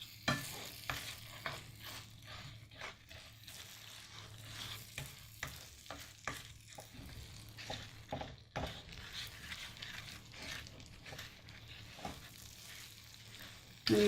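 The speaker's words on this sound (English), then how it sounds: "let me mix all these ingredients together" Chopped dates and pecans are stirred into melted butter in a skillet, giving a quiet, close run of repeated scraping and clacking strokes in a loose rhythm over a faint background.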